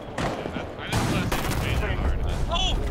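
Gunfire in Rainbow Six Siege: a sharp shot burst near the start and another heavy crack about a second in, loud and close, with excited voices talking around it.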